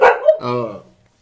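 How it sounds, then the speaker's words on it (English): A dog in a small home kennel barks sharply a couple of times at close range, the second bark drawn out and tonal before trailing off into quiet. "Pardon the dogs,"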